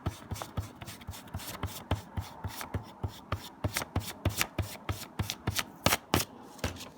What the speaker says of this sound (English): let me erase it